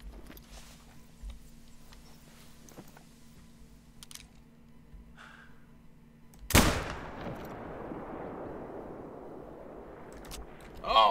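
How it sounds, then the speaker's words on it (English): A rifle shot at an animal in The Hunter: Call of the Wild, one loud sharp crack followed by a long rolling echo that fades over several seconds, then a second report at the end, with faint keyboard typing beforehand. "Tried to shoot it again"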